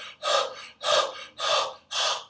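A person imitates rapid, panicked breathing with four loud, evenly spaced breathy gasps, each about half a second long, close and alone with no talk.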